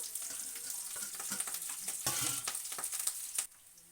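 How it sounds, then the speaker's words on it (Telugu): Onions, green chillies and curry leaves hit hot oil in a pan, a bright crackling sizzle with a sharp surge midway, then a softer steady fry with stirring taps. "ఉల్లిపాయలు వేస్తా తర్వాత పచ్చిమిర్చి కరివేపాకు"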